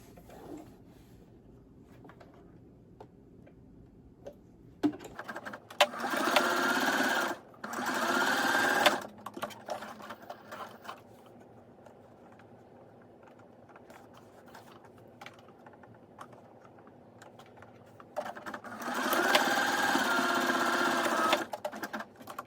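Short bursts of a sewing machine stitching the edges of a fabric face mask, a brisk mechanical whir in two close runs early and one later, separated by quiet fabric handling and clicks.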